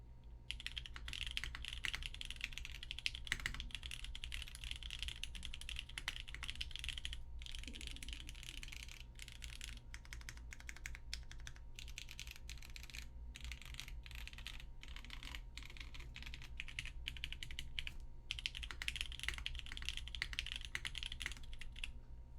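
Typing on a full-size Pangea mechanical keyboard with MX Wax switches on a PP plate in a full aluminum case, a rapid, steady patter of close clacky keystrokes with brief pauses.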